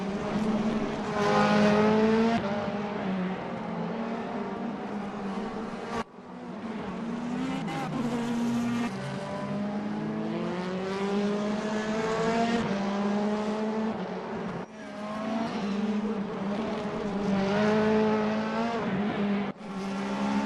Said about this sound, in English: that is the car of Spengler, just losing the back end there